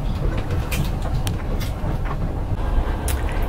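A Russian Railways sleeper train rolls along with a steady low rumble and rattle inside the compartment, and faint clicks and knocks break through the continuous noise.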